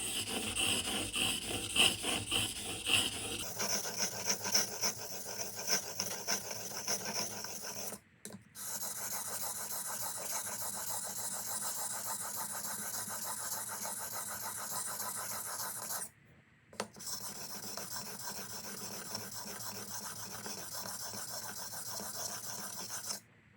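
A hunting knife scrapes in long, rhythmic strokes across a soaked sharpening stone, a close, steady rasping that pauses briefly twice, with no talking.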